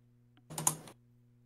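A short burst of computer keyboard typing, a quick cluster of clicks lasting under half a second, heard close over a steady low electrical hum.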